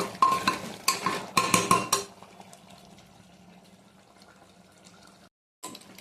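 A spoon scrapes and clatters against a pot as fried potatoes are stirred into mutton curry, several quick rhythmic strokes at first, then a quieter stretch of faint sizzling and a brief return of clatter.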